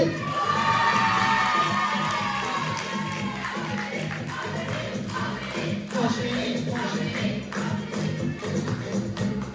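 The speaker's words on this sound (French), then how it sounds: "On peut l'applaudir." A school slam poetry contest audience cheers and claps, with children's shouts and whoops over a busy crowd roar that is loudest at the start and then settles into steady clapping.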